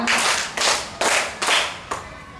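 Children at a summer camp clap in unison, with about four or five crisp, loud group claps evenly spaced roughly half a second apart and a short room echo trailing each one.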